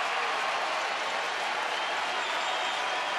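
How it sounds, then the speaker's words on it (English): A baseball stadium crowd cheering on pitcher Joe Nathan in the Rangers' ninth inning: a dense, continuous roar of applause and shouting that holds steady and loud throughout. "Trying to cheer Joe Nathan on to complete"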